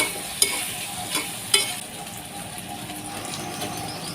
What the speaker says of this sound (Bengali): সবগুলো উপকরণ দিয়ে একটু নেড়ে চেড়ে কিছুক্ষণ রান্না করে নেব